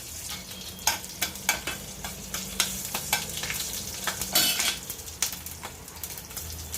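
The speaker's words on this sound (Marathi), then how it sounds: "जिरं घालते थोडंसं थोडासा हिंग कढीपत्त्याची पानं आणि हे मिरचीचे तुकडे" Cumin, asafoetida, curry leaves and chili pieces crackle and sizzle in hot oil in a home kitchen, with sharp pops and spatters over a steady frying hiss and occasional light clinks of a utensil, close and without talk.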